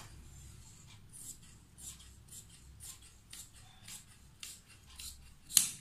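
Fabric scissors snip through leftover cloth for a girl's top in a series of about ten crisp, separate cuts, close and quiet in a still room, closing with one louder snap.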